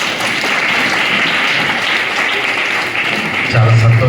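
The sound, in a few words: congregation clapping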